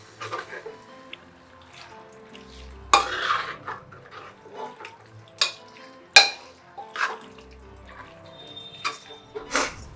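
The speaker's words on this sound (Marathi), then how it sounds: "आता हे सगळं जिन्नस व्यवस्थित मिक्स करून घेते" Vajri (goat tripe) and other ingredients being stirred together in a pot, with intermittent scraping and clinks of a spoon against metal, a couple of sharper knocks, no voices.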